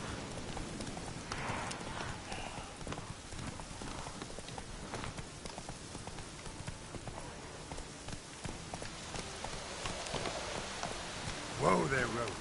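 Roach the horse from The Witcher trotting through rain: soft, rhythmic hoof clip-clops over a steady patter of rainfall, fairly faint, with a brief voice near the end.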